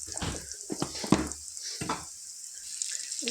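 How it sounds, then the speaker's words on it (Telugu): Ginger garlic paste and turmeric frying in a pan for an egg curry, with close, crackling sizzles and stirring scrapes in short bursts. "ఫ్రై చేద్దాం"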